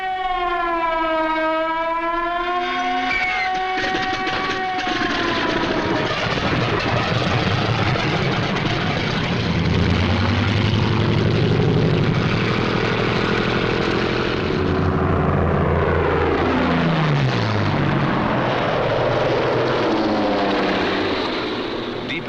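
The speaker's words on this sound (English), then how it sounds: "This captured film shows how quickly the 109s and the Focke-Wulf 190s got into action." Engines of WWII German Messerschmitt 109 and Focke-Wulf 190 fighters roar loudly and steadily with falling, wavering pitch sweeps. A rising and falling siren-like wail opens the sound.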